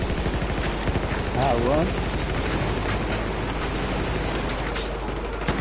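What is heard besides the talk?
gunfire in video game Battlefield 4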